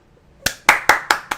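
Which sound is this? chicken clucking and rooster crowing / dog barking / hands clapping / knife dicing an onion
hands clapping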